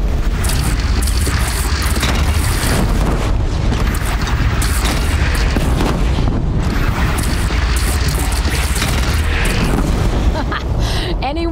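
Heavy cannon fire in the video game Horizon Zero Dawn during a battle with a bandit clan: loud, continuous booming blasts and explosions fill the whole stretch, with voices underneath.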